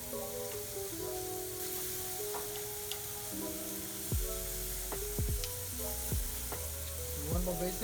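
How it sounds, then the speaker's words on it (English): Basting liquid sizzles and spatters on a Manila street food barbecue grill, a steady close frying hiss with scattered crackles and pops, layered with a faint background hum and no voices. "So I'm gonna put another basting liquid here"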